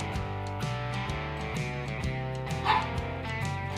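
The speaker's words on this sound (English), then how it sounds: "so you might hear a few barks from time to time." A dog gives small yips and barks inside an antique shop in Amish country, faint and partly buried under steady background music.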